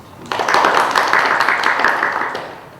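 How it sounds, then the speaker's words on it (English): An audience breaks into a dense, steady burst of applause that holds strong for over two seconds, then eases slightly as it trails off, with no talking over it. "Applaud if you must."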